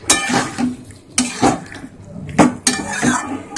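Hot water is poured into a pan of cauliflower and potato curry, bringing a few sharp sizzles and clanks of a utensil against the metal pan, close and fairly loud, with no speech.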